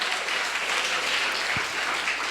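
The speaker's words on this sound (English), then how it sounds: "give yourself a round of applause" A group gives itself a round of applause during a youth event session, steady dense clapping filling the room for a couple of seconds with no voices.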